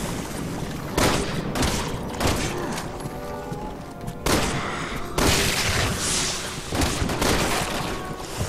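Gunfire in Resident Evil 6 during Leon's campaign: about eight loud individual shots spaced a second or so apart, each with a booming tail, over rumbling background noise.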